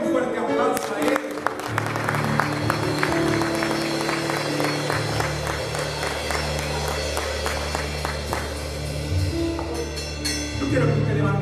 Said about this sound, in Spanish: Denle un fuerte aplauso a él.